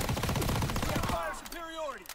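Thompson submachine gun firing in Call of Duty WWII: a dense run of rapid automatic shots fills the first half, then gives way to someone talking.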